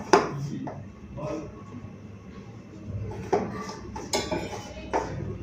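Chilli powder and black cumin are stirred in a metal bowl, with soft scraping and light clinks of a spoon against the rim, close and fairly quiet.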